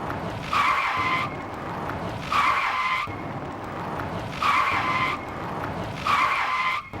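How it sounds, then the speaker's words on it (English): Race car sound effects in a PowerPoint game: four evenly spaced bursts of tire squeal over a steady engine drone, loud and close, with no talking. "we'll drag the car sound effects under each line animation"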